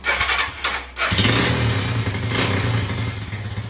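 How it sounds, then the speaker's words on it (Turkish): A newly assembled CG motorcycle with loose parts clatters briefly, then its engine catches and settles into a steady, close, rough idle, with irregular noises coming from the exhaust. "Motorun egzozundan dışında sesler geliyor."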